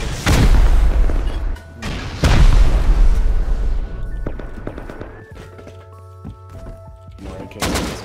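Rocket blasts during a base raid in the survival game Rust, two big booming explosions a couple of seconds apart, each with a long rumbling decay, followed by quieter clatter and a third sharp burst near the end.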